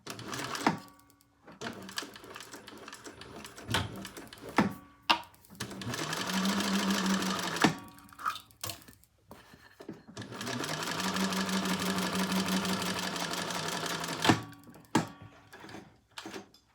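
A sewing machine stitching a crossbody bag runs in two long, steady whirring passes, broken by pauses filled with clicks and handling noises, close up and with no talking.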